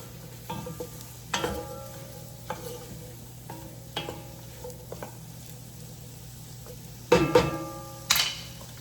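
Mushrooms, about a pound, browning in a pan, a low steady sizzle broken by occasional stirring scrapes and a few sharper clatters near the end, with no talking.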